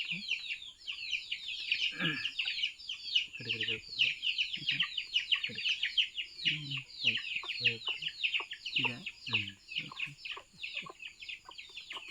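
Chickens sick with fowl pox cluck and chatter in short, steady bursts close by, with a low voice speaking intermittently underneath.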